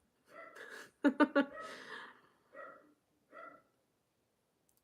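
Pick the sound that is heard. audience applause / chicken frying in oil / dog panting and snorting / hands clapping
dog panting and snorting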